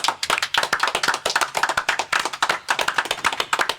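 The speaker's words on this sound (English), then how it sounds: "Can I get a round of applause?" Studio guests on a UK rap podcast clap in a round of applause, close and lively, with sharp uneven hand claps running steadily for several seconds and no talk over them.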